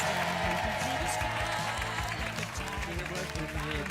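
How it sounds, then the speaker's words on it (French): Studio audience on a French TV game show applauds for a contestant, dense clapping under loud game-show music and a presenter's voice. "On applaudit très fort Sylvain"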